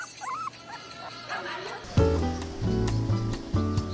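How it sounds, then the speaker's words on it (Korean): A small dog waiting for its owner at a harbor market on Sinan's island coast gives a few short whimpers and yips, mixed with steady background sound that swells louder halfway through. "주인을 기다리는 귀여운 강아지에게도"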